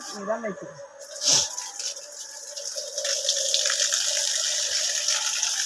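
Water gushes steadily from an outlet, the rushing flow growing stronger and continuous after a brief faint voice at the start.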